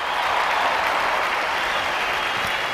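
Steady, dense applause from a graduation audience at International School Basel honoring teachers and staff, loud and continuous without pauses, no voices standing out.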